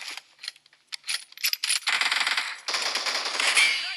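Gunfire in the BGMI mobile battle game, rapid clattering bursts of automatic shots that start sparse and choppy, then run into denser continuous volleys, crisp and fairly close.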